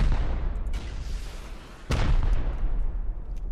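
Heavy gunfire and explosive blasts from a raid in the survival video game Rust, two loud booming bursts about two seconds apart, each trailing into rumbling reverberation, with no talk.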